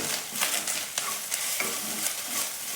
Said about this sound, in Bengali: এর সাথে গোলমরিচ গুঁড়োটা দিলাম তার সাথে পরিমাণ মতো নুন দিয়ে দিলাম দিয়ে এটাও খুব ভালো করে একবার মিশাবো